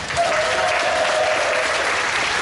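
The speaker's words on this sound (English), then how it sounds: "Round of applause for Supergirl." Audience applauding Supergirl actress Kristin Kreuk at a Q&A panel at the Superman Celebration, a dense, steady burst of crowd clapping filling the room throughout.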